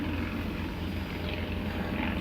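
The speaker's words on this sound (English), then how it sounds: "God damn airplanes." An airplane flies over a backyard, a continuous droning engine roar that stays steady and fairly loud across the whole stretch, with no talk.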